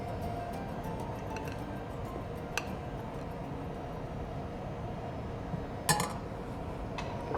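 Cream is handled in a home kitchen while making a Florentine bar filling, with soft, scattered clinks of glass, dishes and utensils over a quiet background hiss. A few sharper taps stand out, and no one speaks.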